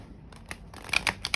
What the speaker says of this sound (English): Let me do a riffle shuffle again.